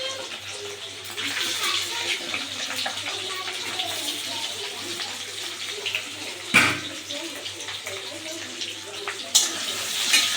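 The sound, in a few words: potatoes frying in hot oil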